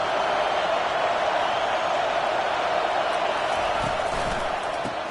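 A packed football stadium crowd sends up a continuous, dense roar that holds steady and loud for several seconds without a break.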